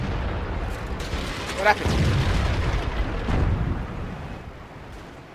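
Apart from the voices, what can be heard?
high explosive tank shell explosions in World of Tanks video game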